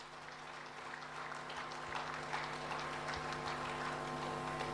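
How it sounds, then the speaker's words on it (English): Applause from an audience at an investment summit, fairly faint and distant clapping over a steady hum from the venue's sound system, lasting the whole stretch. "Shri Mohit Arora, with a huge round of applause"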